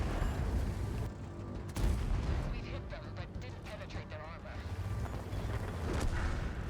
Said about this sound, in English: You'll see me shoot on the move here